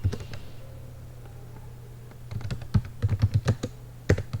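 Code is typed on a computer keyboard in C, giving close, crisp key clicks. Scattered taps come first, then a quicker run of keystrokes ending with a firm final press, with no talk.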